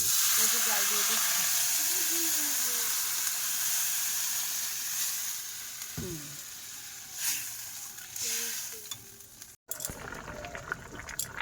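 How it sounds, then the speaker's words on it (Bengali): Water poured into a hot cooking pot in a Sundarban village kitchen, producing a loud, broad hiss of steam that slowly fades, with a voice talking over it and a few clinks near the end. "জল দিয়ে দিচ্ছি।"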